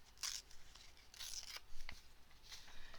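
Scissors snip through magazine pages in several quiet, crisp cuts with short pauses between them, faint and close in a calm room.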